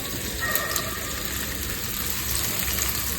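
Okra pieces coated in gram flour, chili powder, salt and turmeric are lightly fried in a pan. They give off a steady, even sizzle with faint crackles and no voices.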